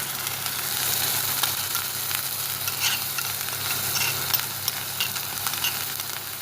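Lightly browned onions with a freshly added spice paste fry in a pan for anda cholay, a steady close sizzle with scraping stirs and small crackles throughout, no voices.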